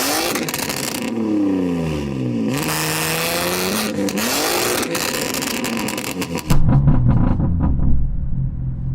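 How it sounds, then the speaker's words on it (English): A 1,000hp BMW M3 six-cylinder engine pulls hard off the line in a drag race, revving up through repeated gear changes with a loud rising howl, then dropping into a lower, rumbling tone as it recedes. "Let's have a listen to your car, MT, your 6-cylinder."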